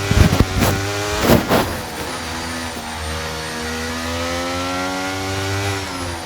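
A Formula 1 race car engine in the video game F1 23, with a loud revving whine that surges and drops on downshifts near the start, then settles into a sustained high-pitched drone.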